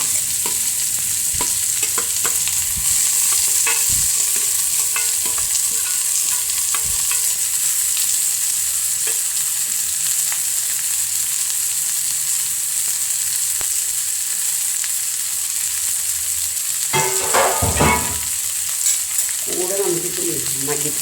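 Mashed potato frying in oil in a pan and being stirred with a spoon, a steady close sizzle with repeated scraping strokes and a few louder clatters near the end.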